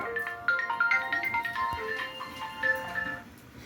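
A melodic electronic ringtone plays a repeating sequence of bright tones, fairly loud and close, running steadily for several seconds.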